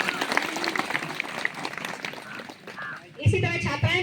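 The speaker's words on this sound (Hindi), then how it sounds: "जोरदार तालियां बजाइए" Audience applause at a school annual function, a broad wash of clapping from a crowd that swells louder near the end, with voices mixed in.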